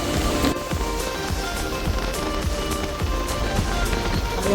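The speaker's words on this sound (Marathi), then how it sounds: "हा व्ह्यू खूप जास्त पाऊस चालू आहे" Heavy monsoon rain pours steadily near Mulshi Dam outside Pune, a dense continuous hiss with drops drumming on a surface, no voices.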